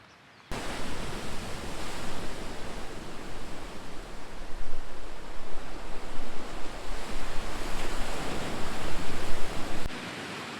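Surf rolls in continuously at Laupahoehoe Beach Park on the Big Island of Hawaii, a broad, loud wash of breaking waves that swells and recedes, with wind buffeting the microphone and no voices.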